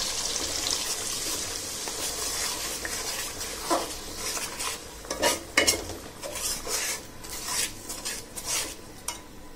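Blended ground spices fry in hot oil in a pan for a potato and eggplant curry. A steady sizzle runs throughout, with a spoon scraping and stirring intermittently, and no voices.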